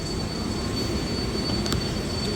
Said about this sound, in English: what's this on the train